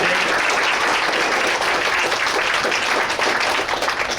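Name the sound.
round of applause for the science expo judges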